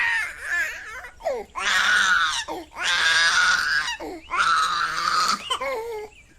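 A baby girl cries from hunger in an animated Hindi story, giving loud repeated wails in three long bursts with short sobbing breaths between them, close up.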